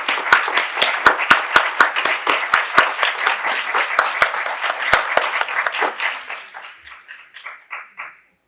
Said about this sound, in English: round of applause for Charlie